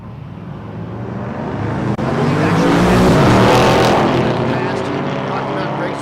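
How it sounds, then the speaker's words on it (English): A drag race at a dragstrip between a Lexus GSF with a 5-liter, four-cam V8 and a big block powered hot rod, a loud sustained engine roar swelling and fading, with commentary voices mixed in. "5-liter, 4-cam V8 under the hood of the Lexus GSF, taking on Ernie Riley, the big block powered hot rod there in the right lane"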